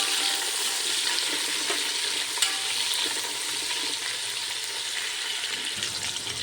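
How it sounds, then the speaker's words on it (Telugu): A cup of sliced onions fries in a pan for biryani, giving a steady, close sizzle with faint stirring scrapes and no voices. "ఇప్పుడు ఇందులోనే 1 కప్పు ఉల్లిపాయలు, ఈ ఆనియన్స్ గోల్డెన్ బ్రౌన్ కలర్ వచ్చేయాలి"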